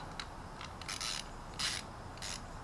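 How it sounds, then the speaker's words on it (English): A ratchet wrench clicks in short bursts while loosening a 5mm hex brake caliper bolt on a 2003 GSXR 1000, several quick, close rasping clicks separated by brief pauses, fairly quiet and alone. "Make sure your wrench is set on loosening it."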